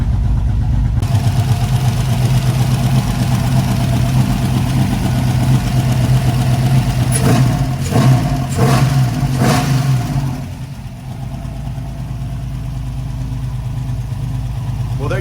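A truck engine runs after a Holley Terminator X fuel injection install, a loud close steady rumble with a burst of revving in the middle, then settles back to a lower idle.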